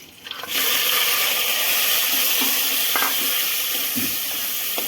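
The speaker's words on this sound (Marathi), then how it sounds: "डायरेक्ट टाकलं आहे फोडणीला लसणीची फोडणी दिली आहे" Crab masala tipped into a garlic tempering in a home kitchen bursts into a loud, steady sizzle that holds for several seconds, with faint stirring scrapes underneath.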